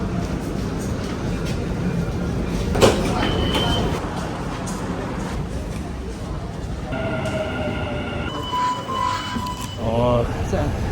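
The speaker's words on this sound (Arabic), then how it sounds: "بقالي ساعة واقف في المترو" Rumbling interior of a moving Dubai Metro train, steady low roar with rattles and a brief screech, muffled chatter from passengers around.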